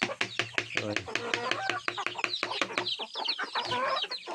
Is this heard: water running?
no